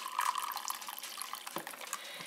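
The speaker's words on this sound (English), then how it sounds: "I'm going to take a half a cup of boiling water," Half a cup of boiling water being poured, a steady close liquid stream with no talk, fading slightly toward the end.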